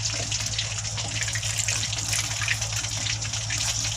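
Water pours steadily and continuously into a bowl of flour, a close, full splashing rush with no talking.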